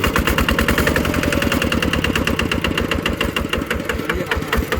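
A tractor engine chugs loudly and rhythmically, with sharp repetitive knocking pulses throughout, close up and steady.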